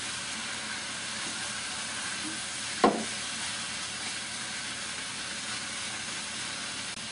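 Pork and onions brown in a pan with a steady, even hiss and sizzle throughout. A single brief clatter or scrape comes near the middle, and no one speaks.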